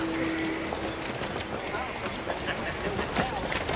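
Horse hooves clip-clop steadily as a rider sets off on horseback, the rhythmic knocks running through the whole stretch under a busy background and a faint narrating voice.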